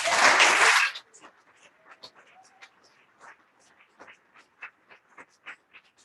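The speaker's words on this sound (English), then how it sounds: "Give him a big round of applause." A brief, dense burst of audience applause at an awards celebration in New Orleans lasts about a second, then fades into a quiet room with a speaker's voice.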